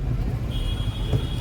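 A car engine during U-turn driving practice, heard from inside as a steady low rumble with a faint whine joining partway through, with no voices.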